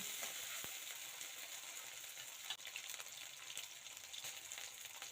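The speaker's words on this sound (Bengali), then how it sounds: "ডুমু ডুমু করে কেটে রাখা আলুগুলোকে এর মধ্যে দিয়ে দেবো দিয়ে এবার ভেজে নেব বেশ কিছুক্ষণ" Diced potatoes fry in a pan with a faint, steady sizzling hiss, broken by a couple of light clinks from a utensil; quiet and continuous, with no talking.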